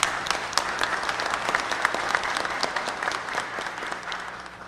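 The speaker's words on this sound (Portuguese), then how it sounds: "Acho que ia pedir uma salva de palmas para ele." Audience applause at a public management seminar, a steady crowd clapping that holds for several seconds and slowly tapers off, with no voices over it.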